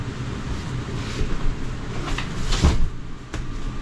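A jackknife sofa in a rear-living couples travel trailer folds out with a muffled clunk and shuffle over steady background noise, including one sharper knock near the middle.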